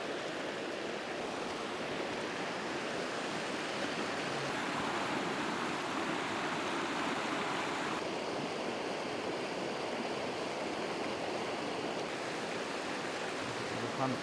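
A mountain river in Berchtesgaden rushing steadily, a constant broad wash of flowing water heard alone at moderate distance with no pauses.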